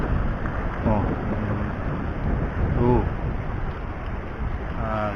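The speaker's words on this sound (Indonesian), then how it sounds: "Cuman anginnya lumayan kenceng nih teman-teman." Strong westerly wind at sea off Onrust Island during a fishing trip: a constant broadband roar buffeting the microphone, steady and loud throughout, with faint voices briefly audible underneath.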